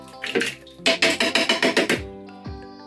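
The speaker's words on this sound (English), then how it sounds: "This is the tomatoes, canned tomatoes, you can see it. I've opened them up, so I'm gonna pour it" Thick canned tomatoes glug and splatter out of a can into a blender in a rapid series of wet, rhythmic plops, close and fairly loud.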